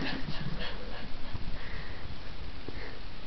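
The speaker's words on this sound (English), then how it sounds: "Who knew dogs get excited about getting MacBooks?" An excited dog sniffs and whimpers up close, quick nasal snuffles and short high whines in an uneven rhythm, loud and near, with a little background voice.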